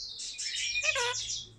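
A small pet bird chirps and tweets in a busy, high twittering run for over a second, close and fairly loud, with no talking.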